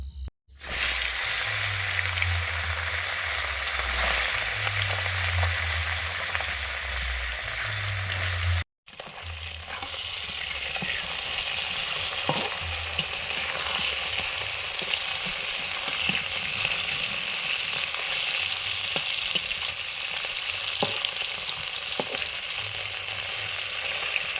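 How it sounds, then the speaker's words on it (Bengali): Parshe fish fry in hot oil in a wok, giving a steady, loud, continuous sizzle with small crackles and pops that runs nearly unbroken throughout. "কড়াইটা বসিয়ে দিয়েছি গরমও হয়ে গেছে তেল দিলাম পার্সি মাছ ভাজবো আগে"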